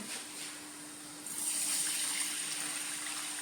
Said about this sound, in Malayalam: ഇതിലേക്ക് നമുക്ക് ഒന്നര കപ്പ് രണ്ടാം പാലാണ് ഒഴിക്കുന്നത്